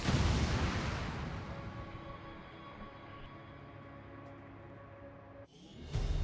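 Demolition charges detonating in XCOM 2: War of the Chosen, a loud booming explosion at the start that rolls into a long, slowly fading rumble, then a second sharper burst near the end.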